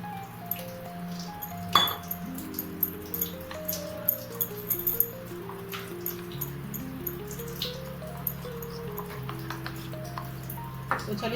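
Batter of flour, water, a pinch of asafoetida and soda is whisked in a bowl, giving light clinking and dripping taps against the bowl, while a soft melodic tune plays throughout the background.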